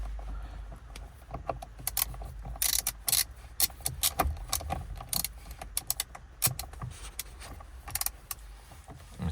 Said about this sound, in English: Let me tighten the steering wheel.